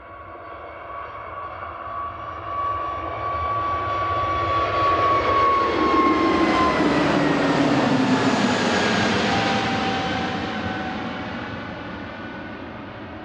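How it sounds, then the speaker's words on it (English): An easyJet Airbus A320neo, five years old, rolls for takeoff at Manchester Airport, its engine roar building steadily into a loud, broad jet rush with a falling whine, then slowly easing as it climbs away. "EasyJet's rolling. We've got, I think, 787 on approach. EasyJet off to Paris Charles de Gaulle. A320 Neo, 5-year-old."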